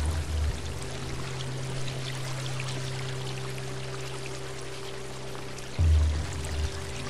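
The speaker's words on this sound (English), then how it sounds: "Why are we walking in water?" A cat wading through water in the video game Stray, a steady running splash and trickle of water with a low ambient hum, interrupted by a louder burst of splashing near the end.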